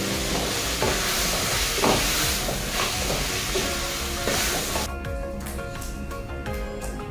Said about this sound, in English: Will then add my tomatoes.